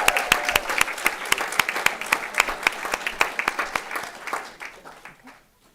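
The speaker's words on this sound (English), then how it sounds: "we'll give a big round of applause for this group" Audience applause at a school board of education meeting, brisk clapping from a modest crowd that fades out near the end, with some talk beneath it.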